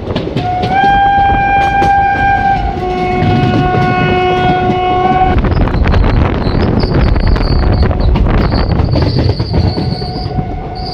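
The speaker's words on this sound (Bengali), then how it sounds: "দুপুর প্রায় 12টার সময় ট্রেন কাটোয়া জাংশনে এন্টার করছে।" Ahmadpur-Katwa passenger train pulling into Katwa Junction, sounding loud sustained horn blasts near the start, then rumbling wagons, clattering wheels and high metallic wheel squeal as it rolls into the station.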